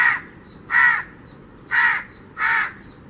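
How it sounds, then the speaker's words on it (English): A crow caws four times in an even, spaced rhythm, each call loud, harsh and close, with quiet gaps between them and no other sound. "It's a crow and it makes cow"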